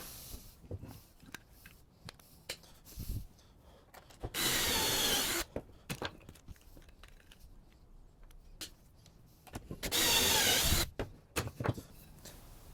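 Two bursts of a power drill boring pocket holes into a wooden bench stringer, each lasting about a second, separated by quieter handling and tapping of wood, close by.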